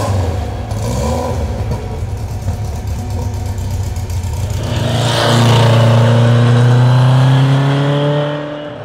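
A 1964 Lotus Super Seven engine idling, then revving up into a loud, rising drone that holds before easing off, heard close by without talk.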